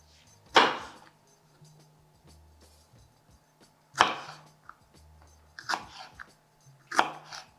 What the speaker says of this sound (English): So now we're gonna cut the pimentos